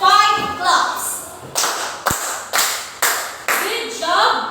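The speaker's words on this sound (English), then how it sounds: "Let's give them 5 claps" A classroom group claps in unison five times, sharp loud slaps evenly spaced about half a second apart, following a brief stretch of speech.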